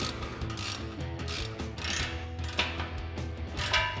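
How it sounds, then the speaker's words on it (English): A ratchet wrench tightens an exhaust clamp on a pipe joint of a 2019-2023 RAM 1500 Corsa sport dual exhaust, giving a steady run of close, rapid clicking strokes with a couple of sharper knocks. "hold our clamp into place right on that joint here and start tightening this down."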